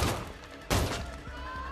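Two loud, sharp gunshots about half a second apart, followed by a noisy rumbling aftermath with a few dull thumps.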